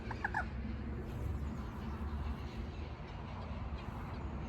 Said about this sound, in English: Is that a moorhen?